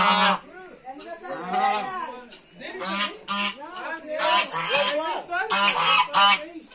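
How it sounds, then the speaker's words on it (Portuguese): Several geese honk loudly and close by in quick, overlapping bursts, a noisy agitated chorus that fills the whole stretch. "As gansinhas."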